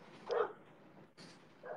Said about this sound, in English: My dogs are out there barking.